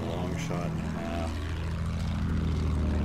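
An enemy propeller warplane in the World War I shooter game Battlefield 1 drones at moderate distance, a steady airscrew hum running under brief game voices and gunplay noise.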